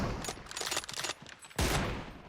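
Gunshots in PUBG Mobile during a one-on-one match ring out as a quick string of sharp cracks, then a brief lull before a louder, booming shot that trails off.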